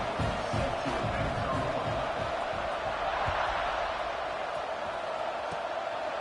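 A college football stadium crowd during a fourth-quarter kickoff against Maryland, a dense, sustained roar of many voices with cheering, steady and loud throughout.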